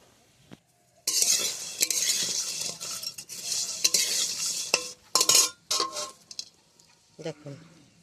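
Pui (Malabar spinach) leaf fritters frying on a wood-burning stove, with stirring and clinking of a utensil against the pan over a steady sizzle, plus a few sharper knocks and brief voices near the end.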